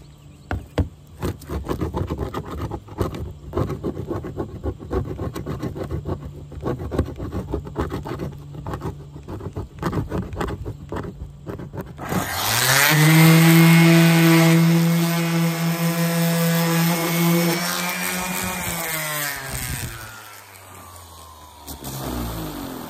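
Sanding with 100 grit sandpaper on a vintage camper, starting as steady scratchy rasping, then a loud powered sander whine kicks in midway and runs on steadily before easing off near the end, close and without talk.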